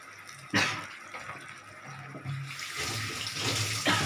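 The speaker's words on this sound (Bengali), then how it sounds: "জলটা দিয়ে দিলাম এবার আমি আর একটু জল দেবো" Water poured from a vessel into a simmering pea-lentil fritter curry in a home kitchen, a sudden splashing pour followed by a steady running stream, then a second louder pour near the end, close and alone.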